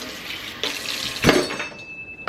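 Warm water runs from a kitchen tap for bread dough, a brief splashing gush in a sink with a clink of glass, close and fairly loud.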